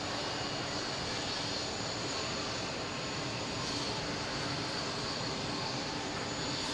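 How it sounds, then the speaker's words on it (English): Steady broadband roar of an Atlas Air Boeing 747 jet starting its takeoff roll at JFK, heard at a distance as a continuous, even rumble with a faint high whine. "the 747 beginning its takeoff roll"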